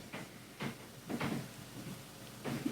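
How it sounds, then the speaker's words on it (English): Wooden ceiling creaking from people walking on the floor above, a series of soft, muffled creaks and thumps spaced about half a second to a second apart, faint and close, with no talk. "you can hear the creaking of the ceiling"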